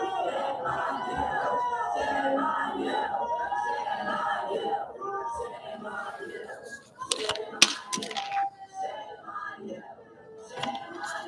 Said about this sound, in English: I actually want to start off this lecture by showing you some video of a protest I had a couple years ago.